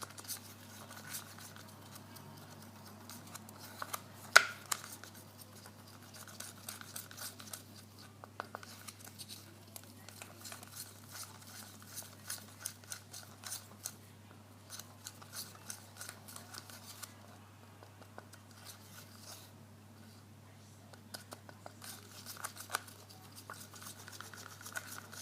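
Resin being stirred by hand to mix it thoroughly, heard as faint, irregular scraping and light clicking against the container, close and quiet over a steady low hum, with no talking.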